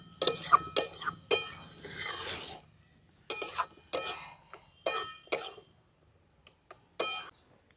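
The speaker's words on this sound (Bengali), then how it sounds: "এবার একসঙ্গে সব ভালো করে মিশিয়ে নিচ্ছি।" A coriander leaf pickle mixture is stirred nearby in a bowl, producing irregular bursts of scraping and clinking strokes separated by short pauses.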